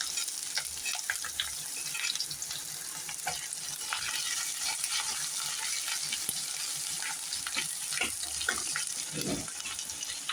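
Cut onion fries in a pan with ginger-garlic paste for a cashew potato masala, giving a continuous close sizzle with occasional scraping stir strokes and no talk.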